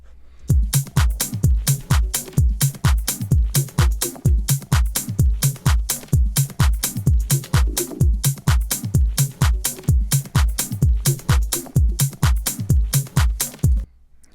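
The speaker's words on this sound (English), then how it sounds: "we can try and get like a cool echo on it" A minimal deep tech house drum groove pounds out a steady, punchy beat with regular kick hits and sharp percussive transients, an echo effect trailing each hit, loud and alone.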